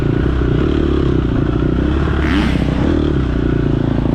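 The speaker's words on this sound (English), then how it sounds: "I just heard somebody rev, I think, from behind." An off-road dirt bike engine revving behind a rider during a race, a loud, continuous rough roar with a swelling rev in the middle, mixed with wind and clatter.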